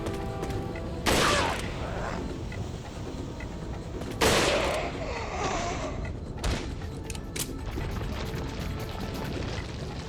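A rifle is fired in the 2005 video game Resident Evil 4. Three loud, sharp shots ring out well apart, each with a brief tail, over low, steady in-game background noise.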